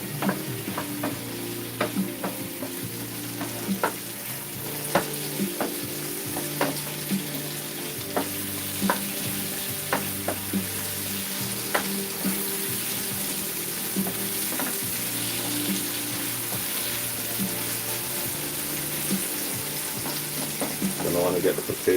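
Garlic, potatoes and mushrooms sauté in a pot, giving a steady soft sizzle with periodic clinks and scrapes of stirring throughout, and a voice speaks now and then over the cooking.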